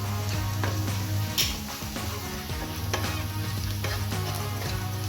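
Turmeric, chilli and coriander powder sautéed in a pan for a tomato rice, a constant close sizzle with frequent scraping strokes and taps of a spoon against the pan.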